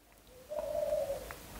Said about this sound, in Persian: فکر کنم صدای کبوترم داره بیرون میاد.